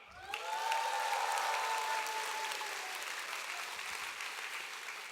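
Audience applauding at a promotion ceremony, a broad wash of clapping that swells quickly and holds steady before slowly easing, with a faint whistle-like tone early on.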